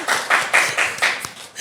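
A small audience at a talk claps for the speaker, about six distinct rhythmic claps close to the microphone with a few scattered handclaps around them.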